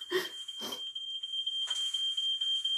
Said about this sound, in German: was piept denn hier so, Mann? Vielleicht der Rauchmelder?